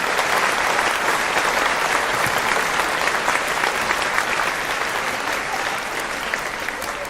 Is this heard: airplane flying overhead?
no